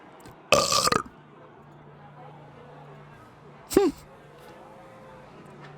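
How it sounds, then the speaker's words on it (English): Two loud, gravelly human burps stand apart from a quiet background: a long rumbling one near the start and a shorter one later, with a faint steady hum between them. "Did you know I could burp on command?"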